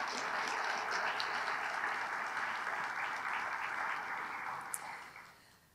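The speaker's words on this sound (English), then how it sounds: "could our audience please give a round of applause to all of those that serve for us" A large audience applauds the people who serve the community at Lynnwood's 2024 State of the City event, a broad, even wash of clapping that holds steady and then fades out near the end.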